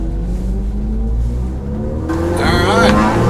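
Fast cars roar past on the Nürburgring, loud engine noise building and rising in pitch toward the end, with a voice talking over it.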